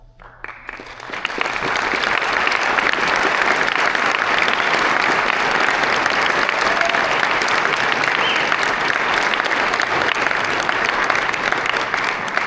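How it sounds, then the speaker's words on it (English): A large crowd at a high school tribute ceremony breaks into sustained applause for the committee, a dense, even roar of clapping that swells in after a quiet start and holds steady. "make yourself known for a round of applause"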